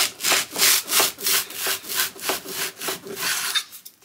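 A saw cuts through a wooden guitar top to remove the sound hole, with rhythmic back-and-forth rasping strokes, close and steady, about two strokes per second, fading at the end.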